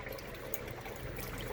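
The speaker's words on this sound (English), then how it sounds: "got some water starting here in the kitchen" Water running from an RV kitchen faucet in a steady, faint hissing trickle, the pump just starting so the flow is still weak, with no talking.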